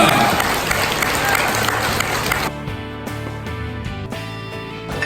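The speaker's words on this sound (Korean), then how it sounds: "박수 부탁드리겠습니다." Wedding guests at the New Hilltop Hotel clap in a dense, busy wash over background music; the clapping cuts off midway, leaving the music playing alone.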